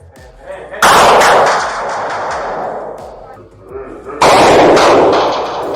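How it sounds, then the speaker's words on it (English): Police officer's gun fired in a hallway, captured on a bodycam: two loud, sharp blasts with echoing reverberation, separated by a few seconds, close and dominant over muffled background noise. "the officer providing cover at the end of the hall discharged his weapon towards the 4 officers in the hallway"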